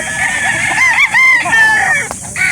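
At a backyard chicken sale in Calauan, Laguna, a rooster crows loudly and close, a wavering drawn-out call with clucking around it, while someone talks in the background.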